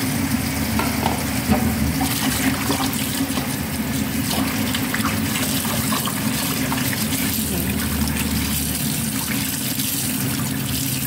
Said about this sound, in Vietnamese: Cho vào nước để mình rửa sạch cái phần rau ngổ đi nhé